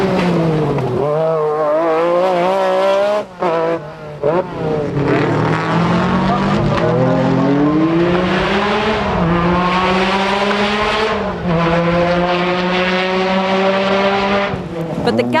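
Rally cars, a Metro and an Escort, race over tarmac and gravel stages at Lurgan Park, engines screaming and shifting through rising and falling notes, loud and close, with a commentator talking over them.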